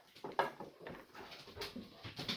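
A pet dog gives short, faint whimpers and small yelps in a home setting, a few quick separate cries spaced unevenly.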